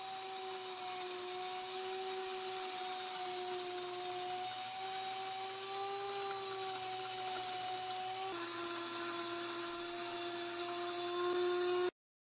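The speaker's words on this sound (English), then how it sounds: "I just ground some fresh spring wheat with a little bit of white hard wheat mixed in." A Blendtec Kitchen Mill grinds a mix of spring wheat and hard white wheat into flour, giving a steady high motor whine and hum that grows louder and harsher near the end before cutting off abruptly.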